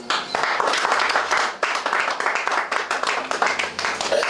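A church congregation applauding during a French-language service, sustained dense clapping from many hands filling the room, steady and fairly loud throughout.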